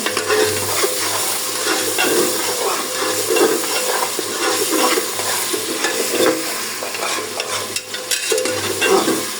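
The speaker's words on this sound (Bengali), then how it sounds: "ভালো করে মশলাটা কষাই নেব। হইতে থাকুক, সব মশলা কষতে থাকুক।" Spices with garlic paste, cumin paste, cardamom and cinnamon sizzling and frying in a pot for beef bone lentil curry, a continuous close hiss broken by repeated stirring scrapes and clinks of the spoon against the pan.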